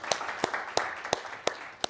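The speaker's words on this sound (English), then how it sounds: "So maybe another round of applause for the duo." At a panel event on Tibet, an audience applauds with a handful of crisp, evenly spaced claps standing out above a soft, steady patter of clapping.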